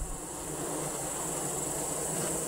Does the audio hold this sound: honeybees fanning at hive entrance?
yes